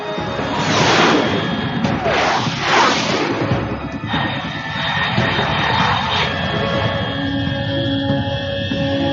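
A jet aircraft roars overhead in the Metal Gear Solid 3 video game, a loud sustained engine rumble and whoosh that swells in waves before thinning to a distant hum.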